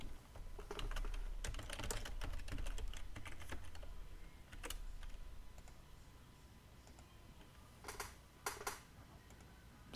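A password is typed on a computer keyboard, a close burst of rapid key clicks that goes quiet, then a few separate taps near the end.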